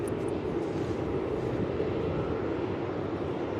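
Jetstar airliner at Melbourne Airport, heard as a steady, broadband engine roar that stays even and continuous throughout, moderately distant, with no talk over it.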